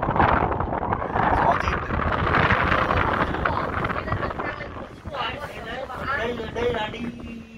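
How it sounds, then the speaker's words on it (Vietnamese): Strong wind rushes and roars through a mountain valley gorge near the Ngọa Vân cable car in Đông Triều, Quảng Ninh, Vietnam, buffeting loudly and continuously while a person talks over it. "Nó ở cái khe này, nó cái gió nó rít này, nó cái thung lũng như này."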